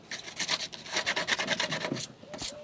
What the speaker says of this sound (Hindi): ये जो हम ड्रिल मशीन से काटें इसको अच्छी तरह से माज लेंगे ताकि पौधों पर धक्का ना लगे